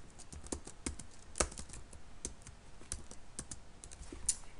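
Quick bursts of keystrokes on a computer keyboard while typing a server address into PuTTY, crisp close clicks in an uneven rhythm with short pauses, no talking.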